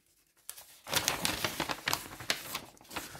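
Victorinox scissors cut through paper with a rapid run of close, crunchy snips and crinkling rustles, repeating unevenly for a few seconds.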